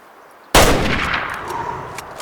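One loud hunting rifle shot in the game Way Of The Hunter cracks out of a quiet outdoor ambience, then a long rolling echo fades across the landscape.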